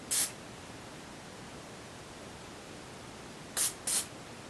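Hairspray mists a wedding updo in three short bursts: one at the start, then two close together near the end, each a soft airy hiss over quiet background noise.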